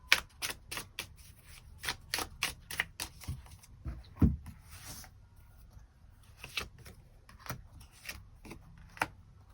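Tarot cards handled and drawn from a deck, a series of crisp, separate flicks and taps in an irregular rhythm, close and fairly quiet, with a soft thud midway and no voices.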